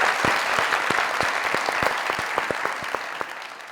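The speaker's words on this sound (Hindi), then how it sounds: "तालियां।" Studio audience applause on a comedy talk show, sustained dense clapping with a few sharper individual claps standing out, loud and close, slowly easing off toward the end.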